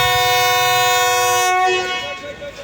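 The Awam Express, 14 Down, led by locomotive 4555 GU20 at Lahore Junction, sounds a loud, sustained multi-tone horn up close that cuts off after about a second and a half, leaving a fading rumble of the train.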